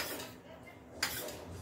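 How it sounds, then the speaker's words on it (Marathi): A spoon mixing custard powder and milk powder in a bowl for an almond milkshake, with soft continuous scraping and clinks and one sharper tap near the middle, close and fairly quiet. "हे मिल्क पावडर आपल्याला एकदम छान असं मिक्स करून घ्यायचं आहे"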